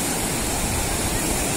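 A clear mountain river, the Phalakhu Khola near Betrawati, runs in a steady, unbroken rush of broadband water noise, close and even throughout with no voices.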